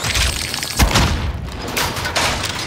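A grenade explodes in Warzone on the Caldera Resurgence map. A dull thud lands amid a dense, continuous roar of rumbling battle noise that keeps churning afterward.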